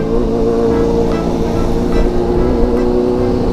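A big Suzuki 400 motorcycle rolls past close by, its engine a loud droning tone with strong harmonics that swells slightly as it goes by.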